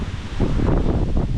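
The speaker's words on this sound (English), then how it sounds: "windy" Wind gusting outdoors around a parked adventure motorcycle fitted with a Mosko Moto Alpine R60 rear fender tool bag, a broad steady rumble and rustle close to the microphone with no voices.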